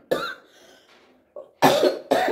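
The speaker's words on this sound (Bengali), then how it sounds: "সরি, আমার খুব কাশি।" A few harsh coughs close by: one at the start, then two loud, rough bursts back to back near the end, with quiet breathing in between.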